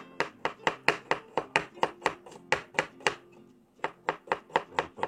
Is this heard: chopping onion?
yes